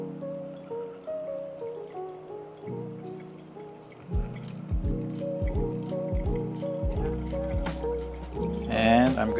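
Hot water streams from a kettle onto coffee in a pour-over dripper, a close, steady trickle that becomes dripping and splashing partway through, rising to a brief louder gurgle at the end, with no talking.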